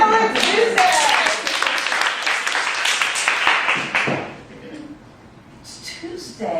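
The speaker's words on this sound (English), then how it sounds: "let's give a nice round of applause" An audience claps briefly at an improv playground show, the applause thick and close for a few seconds, then it fades into quieter shuffling.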